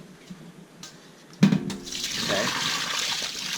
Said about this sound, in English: now I'm going to pour out the water into the sink